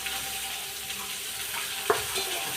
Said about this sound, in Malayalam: അരി നല്ലപോലെ വറുത്ത് അരി പൊട്ടിത്തെറിക്കുന്നതാണ്